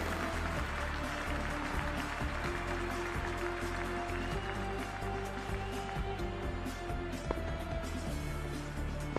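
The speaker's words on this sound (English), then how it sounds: "The crowd is deafening at the moment." Cricket stadium crowd before a T20 World Cup match between West Indies and Afghanistan, a dense, steady roar of cheering and applause filling the whole span without a break.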